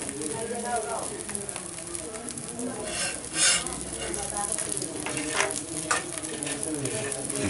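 An omelette frying in a pan, ready to be flipped, sizzles steadily with a few utensil scrapes while a person talks over it.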